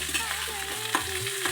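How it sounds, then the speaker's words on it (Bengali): Cut yardlong beans go into a pan of frying potatoes for a fish-bone chhechra, bringing a steady sizzle with soft scraping and stirring taps of a utensil, close and continuous. "এবার আমি দেবো কেটে রাখা বরবটিগুলো।"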